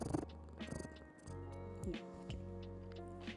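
A pet cat purring close up, a low steady rumble running under soft background noise and faint voices.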